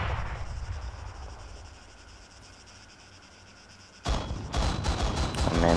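Gunfire in the military video game Arma 3: a quiet, hissy stretch of distant crackling, then a sudden loud onset of rapid, dense shots and bursts that continue to the end.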